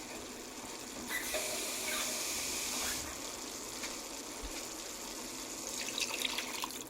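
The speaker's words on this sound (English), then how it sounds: "I'm going to add a little bit more water." Water poured into a pot of chicken curry seasoned with paprika, a soft steady splashing hiss with a brief louder surge near the start, fairly close and without talk.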